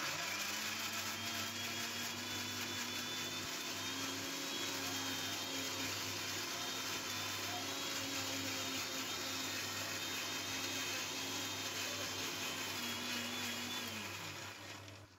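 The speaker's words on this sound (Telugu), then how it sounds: "లైట్గా కొంచెం ఉప్పు వేసుకొని మిక్సీ పట్టేసుకుందాం ఒకసారి." A mixer grinder whirs steadily with a droning motor tone as it grinds green chillies, ginger and salt for pesarattu, running continuously at a fairly even pitch before winding down at the end.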